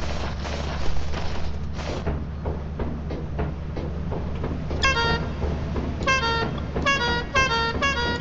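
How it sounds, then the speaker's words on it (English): A toy clown horn honks in a quick run of bright, squeaky toots, first a few separate blasts and then rapid bursts in the second half, over a steady low rumble of background noise. "you hear me honking my horn"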